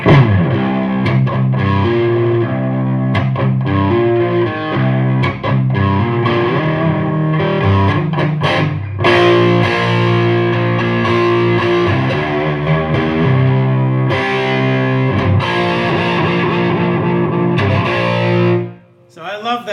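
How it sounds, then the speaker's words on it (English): A Marshall DSLH guitar amp in crunch mode, with gain cranked to about one o'clock and a hint of reverb, plays a loud, continuous distorted electric guitar riff that fades out at the end. "The crunch is pretty cool. I like the crunch mode."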